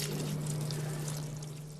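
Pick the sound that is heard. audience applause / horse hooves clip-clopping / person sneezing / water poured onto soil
water poured onto soil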